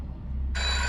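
A telephone in a video game starts ringing partway through, a sudden bright electronic trill that stays steady and loud over a low background hum.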